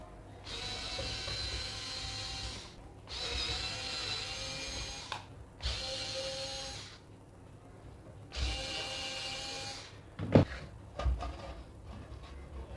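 Screws being backed out of an old, dust-laden automatic changeover switch, heard as several bursts of ratcheting screwdriver clicks separated by short pauses, close and moderately loud, ending with a couple of sharp clanks.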